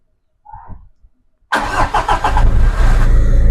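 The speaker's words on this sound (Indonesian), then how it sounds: "Kita coba starter ya." A Peugeot 307 diesel under repair fires up abruptly after a faint moment of quiet, then settles into a loud, steady, rattling idle close by.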